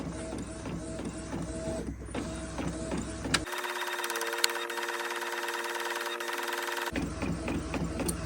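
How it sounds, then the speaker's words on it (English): An Epson 2803 inkjet printer prints a tiled image: rapid mechanical chattering and whirring, then a long steady whine of the print head pass, then the clattering feed again, close and continuous. "my image is printing"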